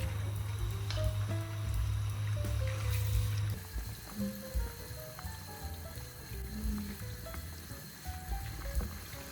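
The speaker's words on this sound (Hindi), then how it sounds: "चिकन हमारा हल्का सा फ्राई हो रहा है, हल्की आंच पे।" Chicken pieces fry lightly in oil over low heat for a steam roast, giving a soft, steady sizzle and bubbling that stays faint under quiet background music.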